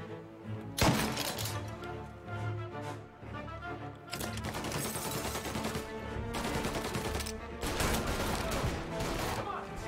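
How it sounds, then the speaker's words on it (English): Rapid machine gun bursts and sharp gunshots ring out in Mafia Definitive Edition, loud and close, overlapping in dense volleys with brief gaps, while a player talks over the action. "Oh god, they have machine guns now?"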